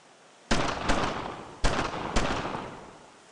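Four sharp gunshot bursts from a World War II squad firefight in Brothers in Arms: Road to Hill 30, near German barracks, each a loud close crack with a decaying tail, spaced irregularly with no talk between.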